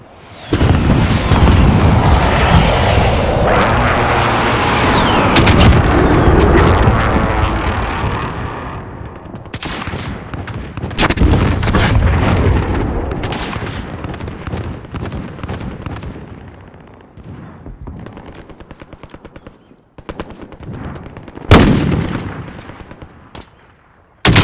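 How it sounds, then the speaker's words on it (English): Precision airstrike in Call of Duty: Modern Warfare, with aircraft rushing overhead and a long series of loud explosions and booms that thin out into scattered blasts and crackles. "Friendly precision airstrike on the way."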